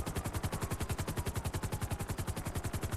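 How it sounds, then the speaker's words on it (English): Rapid automatic gunfire from the GTA 5 video game, aimed at a police vehicle on a rural dirt road: a steady, loud stream of evenly spaced shots runs unbroken for the whole stretch. "Shots fired on my vehicle."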